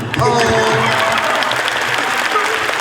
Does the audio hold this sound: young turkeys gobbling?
no